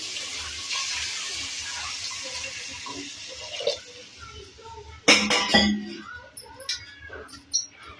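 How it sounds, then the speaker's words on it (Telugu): Water poured into a pan of sizzling biryani masala with green chillies, for a prawn and basmati layered biryani: a steady hiss of frying, then a sudden loud splash and bubbling burst about two thirds through. "ఇవన్నీ బాగా వేగి ఇప్పుడు వాటర్ పోసుకుందాం"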